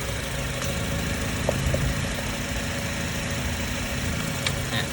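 A Honda Accord's engine idles in a steady, even low hum with a faint mechanical ticking, heard up close without talk.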